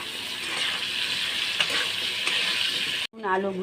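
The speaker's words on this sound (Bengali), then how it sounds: "আলুগুলোকে লাল লাল করে ভেজে নিয়েছি।" Potato pieces fry in oil with a continuous bright, close sizzle and a few stirring clinks, then a brief cut near the end followed by a short burst of different frying sound.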